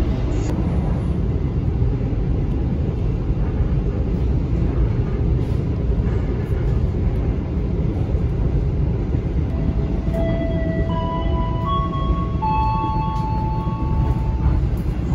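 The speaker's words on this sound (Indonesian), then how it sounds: "Ditarik menggunakan lokomotif CC 206" Passenger train hauled by a CC 206 locomotive, a loud, steady rumble and rattle of rolling carriages heard from inside, with faint tonal whines rising late in the run.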